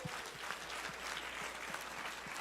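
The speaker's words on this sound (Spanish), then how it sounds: "Dele el aplauso fuerte al Señor." Church congregation applauding during a Spanish-language sermon, a fairly faint, continuous patter of clapping with a low hum beneath, steady for the whole stretch without speech.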